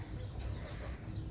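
Soft, low cooing of a female breeder pigeon, a muffled throaty murmur rising and falling close by, quiet and without talking.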